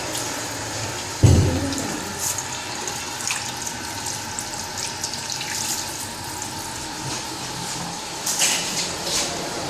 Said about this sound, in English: Don't leave the water running.